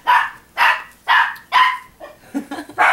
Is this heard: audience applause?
no